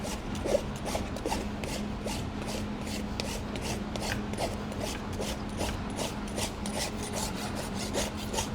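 A horse hoof being trimmed and rasped, with steady repeated scraping strokes in a close, continuous rhythm and no talking.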